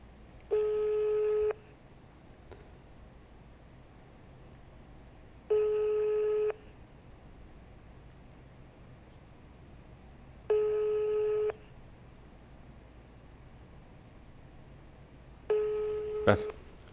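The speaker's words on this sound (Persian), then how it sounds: "تلفن داره زنگ میزنه." Repeated telephone ringback tone on a call, four evenly spaced one-second tone bursts about every five seconds over low background hiss, with a faint click near the end.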